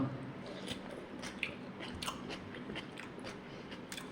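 Crunchy bites into fresh cucumber, sliced or cut lengthwise, at lunch, with repeated close chewing and crisp crunches spread across the moment, no talking.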